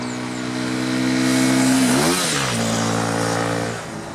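A Triumph Scrambler 1200 XE motorcycle engine runs steadily up close, with a deep throbbing note that holds, dips briefly in a short rev change midway, then settles back to a loud idle, with no voices over it.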